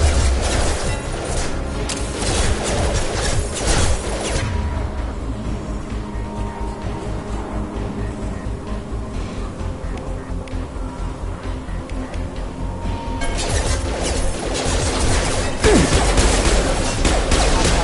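Gunfire from the video game Mass Effect 2 rattles in dense, loud bursts of rapid shots, easing into a quieter stretch in the middle before heavy firing resumes.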